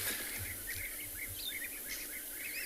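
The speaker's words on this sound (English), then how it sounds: "Can you hear that high-pitched chirping?" High, thin bird chirps repeat in quick bursts over a faint outdoor hum, fairly distant and soft, in the South African bush in the afternoon.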